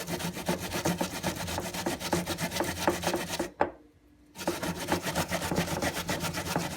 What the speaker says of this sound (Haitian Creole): On graje gingembre.